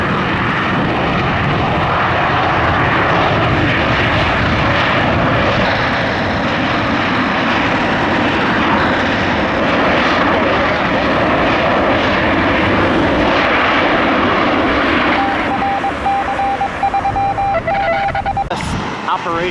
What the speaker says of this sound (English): Touches down here at 28 left from Nashville.